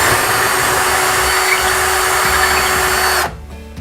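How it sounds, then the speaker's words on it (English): A power drill bores a pilot hole into a wall for a wall anchor during a roller shade installation, a loud steady high whine running for about three seconds before stopping abruptly. "I'm going to go to that hole that we've already marked and do a pre-drill for my anchor"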